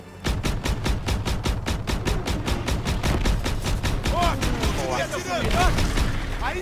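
Rapid gunfire from Call of Duty WWII, with a fast, evenly spaced burst of shots that then gives way to scattered booms and mixed battle noise, loud and close throughout.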